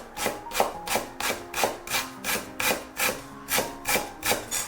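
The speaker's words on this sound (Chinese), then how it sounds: "然后再切成姜末。" A knife chops fresh ginger into fine mince on a cutting board, about a dozen steady, evenly spaced blade strikes close up, with no talking.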